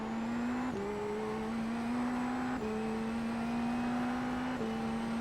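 A Dallara IL-15 IndyNXT race car in iRacing drones on a steady high engine note around Portland, stepping abruptly through upshifts and downshifts as the throttle comes on and off, loud and continuous with no voices.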